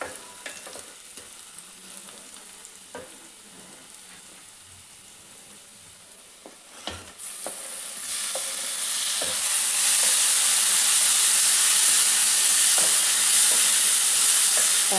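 Onions fry for a sea prawn curry, a quiet sizzle with scattered stirring clicks that swells into a loud, bright hiss once tomatoes drop into the pan, with no talking.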